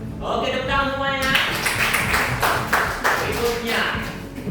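A class of schoolchildren clapping their hands together in a classroom, a dense burst of claps that runs throughout, with voices mixed in underneath.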